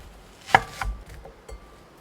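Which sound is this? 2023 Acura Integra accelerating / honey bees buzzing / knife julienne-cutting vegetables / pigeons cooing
knife julienne-cutting vegetables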